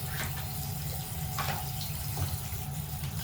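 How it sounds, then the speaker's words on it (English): Water runs steadily from a tap as hair product is rinsed out, with faint splashes breaking the flow now and then, soft and close. "So I'm just going to rinse this stuff out"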